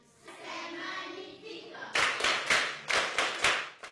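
Audience applause breaks out after a murmur of voices, a burst of clapping from a crowd in several surging waves lasting a couple of seconds.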